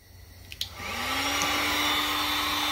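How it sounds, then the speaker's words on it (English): Heat gun blowing on a cloudy, foggy clear coat, switching on after a couple of clicks and settling into a steady, loud whooshing drone with a rising whine. "You're gonna get your heat gun from a distance"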